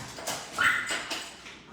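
A dog whimpers in a few short, high, faint whines indoors, brief cries rising and fading over a quiet room.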